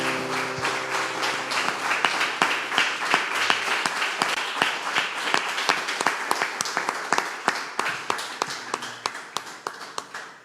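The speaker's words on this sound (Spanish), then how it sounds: "Le damos un fuerte aplauso al Señor." A church congregation claps in unison, a long run of crisp, evenly timed beats that slowly loosens toward the end, with a faint musical hum underneath at first.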